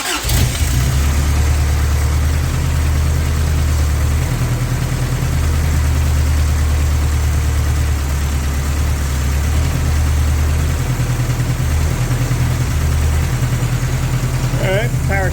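A 1984 Toyota pickup engine idles loud and close with its power steering pump running, a steady mechanical drone with a faint whine and slight shifts in pitch throughout.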